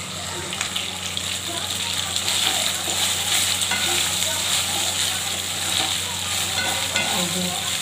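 Rice pulao ingredients sizzle and fry in ghee with ginger, cashews and raisins, a close, steady sizzle with stirring scrapes throughout and no clear talk.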